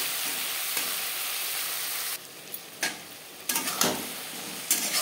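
Eggplant pieces fry with spices in a pan for a fish curry, a loud constant sizzle that drops off briefly, then returns with sharp clicks and scrapes of stirring; no speech.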